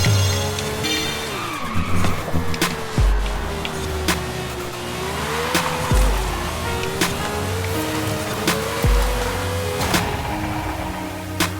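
A race car in Forza Horizon 5 at speed, its engine droning and shifting pitch while tires squeal through repeated corners, with low thumps recurring every few seconds and no talking.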